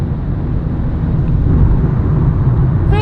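A 2017 Toyota Yaris iA small economy car pulls hard at full throttle in third gear on a Montana road, a steady loud engine drone blended with road and wind roar from inside the cabin.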